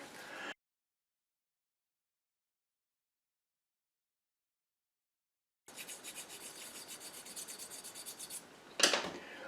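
Rhythmic rasping strokes of an emery paper stick sanding a die-cast Dinky Toy Ford Zephyr model after a long stretch of silence, ending with a louder scrape.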